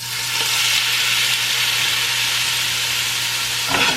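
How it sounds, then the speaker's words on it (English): Shrimp sizzle loudly in a pan of hot olive oil, a dense continuous frying hiss close up, with a brief clatter near the end as they are moved. "let that get really hot, put the shrimp, let it sit for a minute, and then I moved it around"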